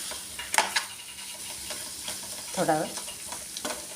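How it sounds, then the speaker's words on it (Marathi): Boiled eggs fry in masala in a pan with a soft steady sizzle, broken by a few close clinks and scrapes of a spoon stirring; someone speaks briefly over it. "त्यांना थोडं फ्राय करून घेते मी याच्यामध्ये"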